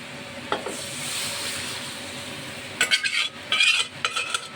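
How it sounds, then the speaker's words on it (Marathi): Cooked toor dal, boiled with salt and turmeric, is added to a pan and stirred for a hotel-style garlic dal fry, giving a steady soft sizzle followed by a few close bursts of spoon scraping and clatter near the end. "आता ही जी डाळ आहे ही सुद्धा आता यामध्ये ॲड करून घेणार आहे"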